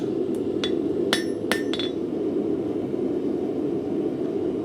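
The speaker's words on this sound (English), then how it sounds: "and then hammer around." A few sharp metallic hammer strikes on a hot steel skewer curl ring out early, spaced unevenly, over a steady low forge roar that continues alone afterward.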